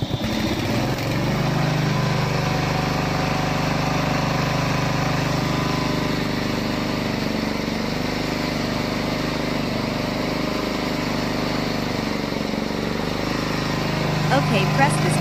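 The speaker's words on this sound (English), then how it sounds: "Use the button on the control panel to start the engine." A brushless remote-controlled mowing tank runs outdoors with a steady, droning engine hum, constant and fairly loud from start to finish.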